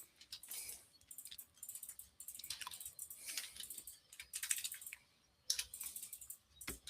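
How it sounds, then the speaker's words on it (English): Fast, steady clicking on a computer keyboard, a continuous patter of close, fairly quiet keystrokes with brief pauses and no talking. "Sound like you're clicking away there."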